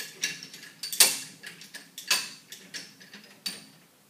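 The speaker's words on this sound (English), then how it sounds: "We're going to use the optional 775 support arm to mount it directly onto the pipe." A RIDGID 775 support arm is mounted onto a pipe with a quiet series of sharp metallic clicks and ratcheting ticks, irregularly spaced and close by.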